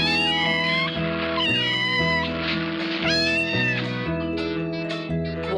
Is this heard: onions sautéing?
no